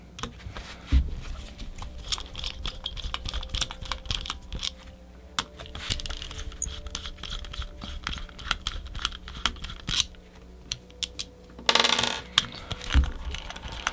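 Small screws are backed out of the top of a Bitspower Summit EF CPU waterblock, giving a run of dense metallic ticks and clicks. Light rattling parts and a sharper clatter come near the end, close and with no talk.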